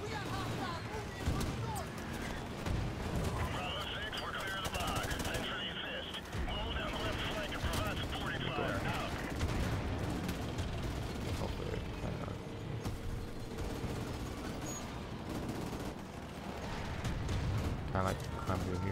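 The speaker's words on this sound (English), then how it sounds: "I picked up a machine gun." Machine gun fire in the video game Modern Warfare Remastered: rattling bursts and booming battle noise fill the scene throughout, with a person talking over the gunfire.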